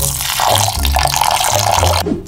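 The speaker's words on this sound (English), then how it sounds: "Bubbles." Continuous gurgling, bubbling water, loud and close, with low rhythmic bursts, ending in a short splashy drip.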